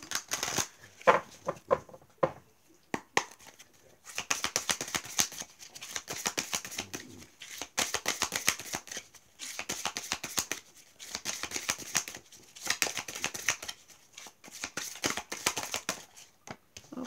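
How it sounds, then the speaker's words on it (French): Oracle cards shuffled by hand, long bursts of rapid riffling and flicking close up, broken by short pauses as cards are drawn. "Je pense que je vais quand même tirer une carte."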